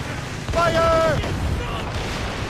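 Cannon fire during a naval battle in the game Assassin's Creed Rogue: a single heavy boom under a shouting voice, with surf and wind washing around it.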